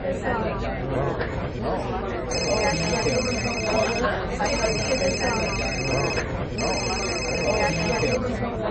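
A phone rings with a wife calling, three repeated electronic ringtone bursts in an even rhythm, heard under ongoing conversation and background chatter.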